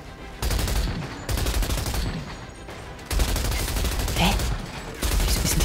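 Weapon fire in the video game Outriders, rapid automatic bursts in several loud stretches separated by brief pauses, with a short spoken interjection partway through.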